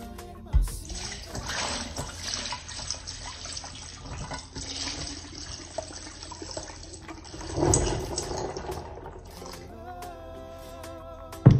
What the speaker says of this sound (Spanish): Ahora sí, solo vierto mi agua.